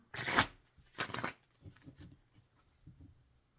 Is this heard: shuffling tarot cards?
yes